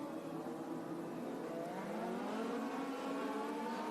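A pack of race cars at a night Speedweek race on a track roars together in a steady, sustained engine drone, heard from a distance with no close voices.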